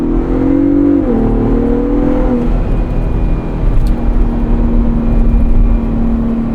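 A 2024 Ford Ranger Raptor's engine in sport mode, loud and close from inside the cabin, with a rising engine tone that holds, drops back, then settles into a steady drone with no voices.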